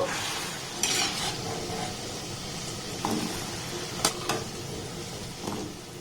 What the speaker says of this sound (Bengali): এবার এই গরম গরম মিষ্টিগুলোকে এই শিরার মধ্যে আমি দিয়ে দেব